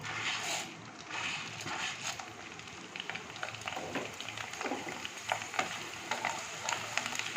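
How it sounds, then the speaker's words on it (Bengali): Sago pearls fry in hot oil over a low flame, a close, crackling sizzle broken by irregular scraping and stirring noises that grow busier toward the end. "এবার আমি আবার দেবো, সাবুগুলোকে ভেজে নেব।"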